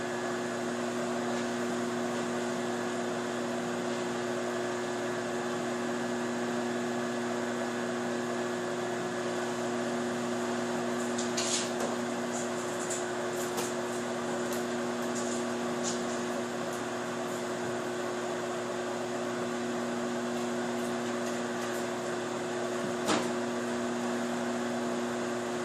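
A microwave oven runs steadily while heating French onion soup in a mug, a constant close electrical hum and fan whir with a few faint clicks and ticks over the top.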